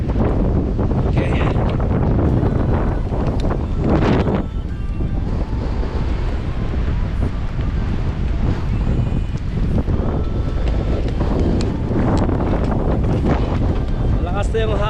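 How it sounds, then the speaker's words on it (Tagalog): Strong wind roars and buffets the microphone on a sunny, cold mountain summit, a loud, continuous rumbling blast for the whole stretch with no letup. "Malakas na yung hangin"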